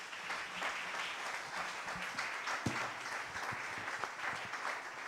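A church congregation applauds steadily throughout, a dense continuous wash of clapping with a few sharper claps standing out, moderately distant and with no talk over it.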